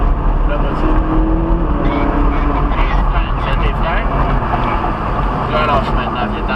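A Ferrari 458 Italia accelerating on a race track: a steady, loud engine drone holds throughout, with an instructor's voice speaking over it.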